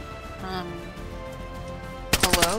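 A DayZ gunfight ends in a quick burst of four loud, sharp shots near the close, after a stretch of voice chat over quiet background sound.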